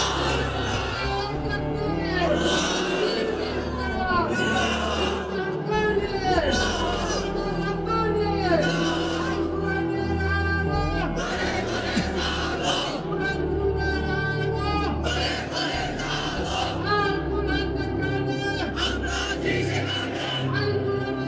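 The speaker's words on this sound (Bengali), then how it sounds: "তোমরাই স্লোগান দাও, তোমরাই তাকবীর বলো" A large crowd roars slogans and shouts takbir in loud, sustained waves, voices overlapping continuously at close range with a leader's voice prompting them.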